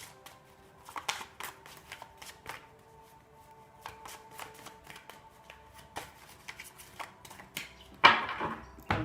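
A tarot card deck is shuffled and cut by hand, giving a dense run of light riffling taps and flicks over several seconds. A sharper burst of card handling comes near the end, with no talking.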